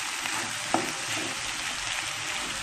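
Chicken breast slices dressed with lemon juice fry in a pan, giving a steady, loud, close sizzle with one small clink partway through.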